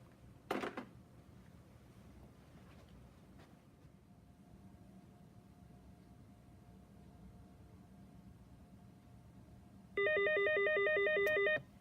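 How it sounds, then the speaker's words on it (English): Office telephone rings in a loud electronic burst near the end, following a short sharp knock and a long stretch of quiet room hum at a child development center. "When the phone rings and you answer it"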